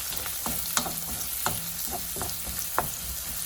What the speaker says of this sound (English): Saute the onions until it's brown in color.